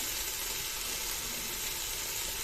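Spices fry for mutton lung chilli in a hot pan, giving a steady, even sizzle and hiss throughout, close and moderately loud with no talk.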